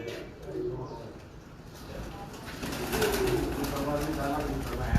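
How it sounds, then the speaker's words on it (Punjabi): Grey pigeons coo softly and steadily near a loft, low murmuring calls repeating throughout while people talk nearby and background noise grows louder toward the end. "ਸਲੇਟਾ ਕਬੂਤਰ ਇੱਥੇ ਰੱਖੋ ਜੀ"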